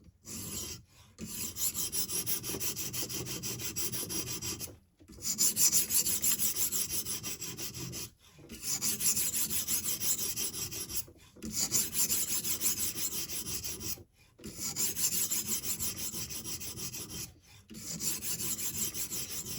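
A knife with a broken tip is worked on a Hapstone guided sharpener, its blade grinding against an aggressive stone in long raspy strokes, about six passes separated by brief pauses, close and loud with no talking.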